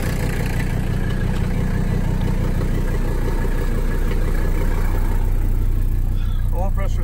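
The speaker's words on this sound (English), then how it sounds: "You hear that belt squealing." A Mercedes 300D diesel idles steadily and close by, its low rumble carrying a thin, continuous squeal from the alternator belts, with a brief rising chirp near the end.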